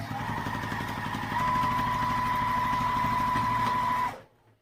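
A sewing machine bastes the sides of a sling bag with a steady, close mechanical whir and rapid stitching chatter, slightly louder after the first second, then stopping abruptly near the end.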